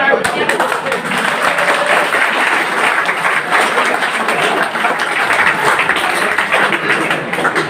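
Women in an audience at a speech event clap together in a steady, dense wash of applause lasting throughout, with voices mixed in underneath.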